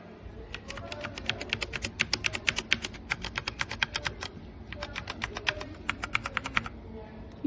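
Typing on a DIERYA T68SE 60% mechanical keyboard with brown switches: two bursts of rapid, close, crisp key clacks separated by a short pause, quiet background.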